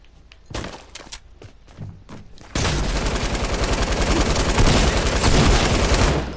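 Gunfire rings out in a shooter video game: scattered single shots and short bursts, then a sustained, loud stretch of rapid automatic fire.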